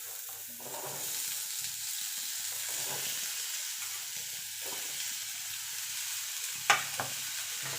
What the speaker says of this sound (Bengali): আলুটাকে একটু নাড়াচাড়া করে নেবো,